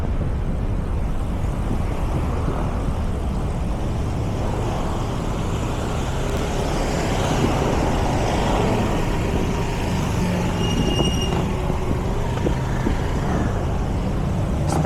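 Road traffic noise is heard while riding through traffic on a long ride from Valenzuela to Tagaytay, a steady broad rumble of engines and passing vehicles with wind, continuous and fairly loud, with no talking.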